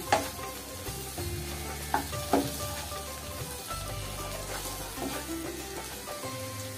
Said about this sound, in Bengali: কুচানো পেঁয়াজটা দিয়ে দিলাম। ভালো করে নাড়িয়ে চাড়িয়ে করতে হবে।